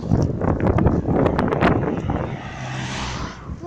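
Wind buffets a microphone outdoors in a town during a Pokémon Go walk, giving a loud, steady rumbling roar across the whole stretch with gusty swells and no talk.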